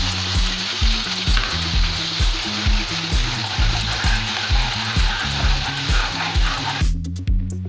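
Spice paste sizzling as it hits vetki fish frying in a pan, a loud constant crackle with rhythmic scraping and stirring thumps, ending in a short quieter pause.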